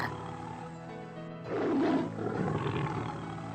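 A tiger roars in a comedy cartoon, a loud rough swelling growl that rises midway and then trails off into a sustained rumble, with no speech over it.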